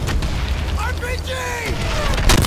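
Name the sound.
RPG rocket explosion in Call of Duty video game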